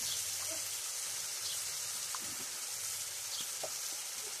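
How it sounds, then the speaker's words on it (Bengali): Turmeric and tomatoes fry in hot oil in a pan, giving a steady, soft sizzle with a few faint clicks and stirring sounds over a constant hiss. "হলুদটাও ভাজা হয়ে যাবে"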